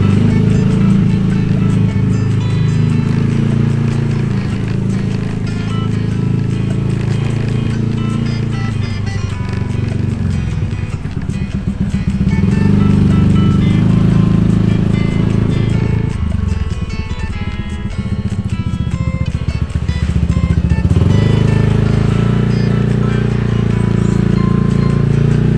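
A motorbike rolls along a sandy coastal road, its engine droning loud and steady throughout, with the pitch dipping and rising as the rider eases off and accelerates.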